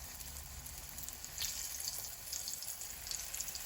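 Green tomato slices frying in grapeseed oil in a pan on medium heat, a steady soft hiss and crackle of oil, faint and continuous with no talking.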